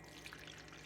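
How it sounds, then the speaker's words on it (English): Water is poured into a well of flour in a mixing bowl to make hardtack, a faint, brief trickle lasting under a second. "we're going to add our water right there"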